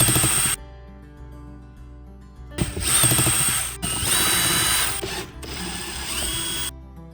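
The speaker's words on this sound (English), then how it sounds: "Remove these 4 screws." A power drill whirs in several bursts removing four screws from the glove box of a Nissan Kicks, each burst loud and close with pauses between, backed by a low steady hum.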